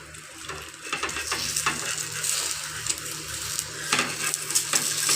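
Egg sizzling steadily in a salted frying pan, a continuous close crackle with occasional stirring and light utensil clinks against the pan.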